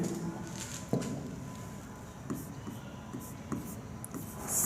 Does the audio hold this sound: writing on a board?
yes